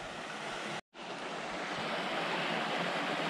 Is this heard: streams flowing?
yes